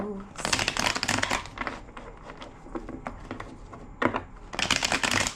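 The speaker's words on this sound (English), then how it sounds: "Two more shuffles." Tarot cards riffled and shuffled in several bursts of crisp flapping, close up, with quieter handling between bursts.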